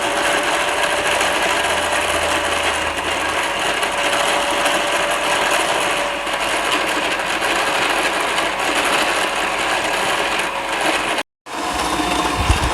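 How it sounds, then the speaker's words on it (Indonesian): An electric stand mixer kneads pizza dough until smooth, a steady motor whir with a dull rhythmic churn running alone and at an even loudness, briefly cut near the end before resuming. "Di mixer sampai kalis tepungnya, adonannya biar sampai kalis,"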